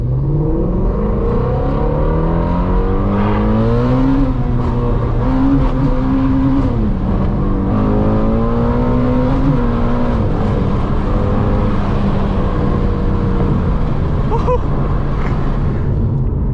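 Ford Mustang GT350 driving over a rough, poorly surfaced road, its engine note rising and falling with throttle through gear changes, loud and close throughout with steady road and tire noise beneath.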